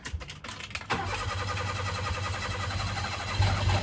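A Mitsuoka Yuga car engine cranks with a quick rhythmic churning for about a second, failing to start, then a steady, rough rumbling drone continues up close.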